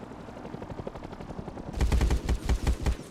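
Heavy M2 machine gun emplacement in the Rust video game opens fire, a loud rapid burst of booming shots after a quieter stretch of distant crackling gunfire.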